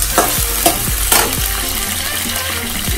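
Tomatoes dropped into a pan of frying onions, a loud close sizzle with a few sharp spatters and knocks of a utensil against the pan.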